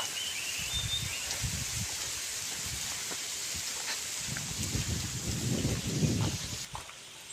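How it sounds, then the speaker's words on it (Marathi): Steady rain falls in a windy downpour near a creek in the Konkan countryside, a constant broadband hiss with low rumbles swelling toward the end, no voices heard. "वारं भरपूर सुटलेला पाऊस पडत वाटतं"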